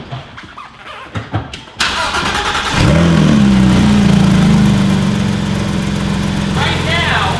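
Porsche GT3 RS with a swapped exhaust cranks and fires up indoors, a sharp start flaring into a loud, steady, throaty idle that holds and settles, after some brief knocks and shuffling beforehand.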